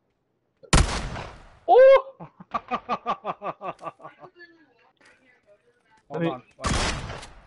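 Rapid burst of PUBG gunfire on PS4, roughly a dozen evenly spaced shots in quick rhythm, fairly loud and close, with a player's short exclamations before and after it.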